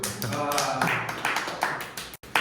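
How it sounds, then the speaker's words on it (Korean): Hands clap in a quick run of sharp, close claps with brief pauses, while a voice talks over them. "야, 박수."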